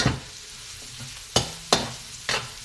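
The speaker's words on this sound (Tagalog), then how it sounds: "Squid balls. Ginisa ko muna. Prito ko muna." Squid balls frying and being stirred in a pan: a low sizzle under several sharp scraping stirs of a utensil against the pan, spaced unevenly, with no voices.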